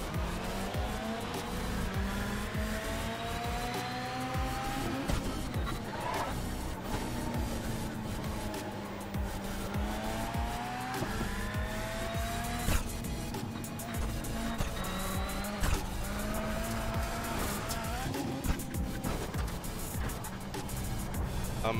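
An iRacing autocross race car's engine howls continuously, its pitch sweeping up and down through gear changes, with tire squeal mixed in. The sound is loud and steady throughout, with no talking.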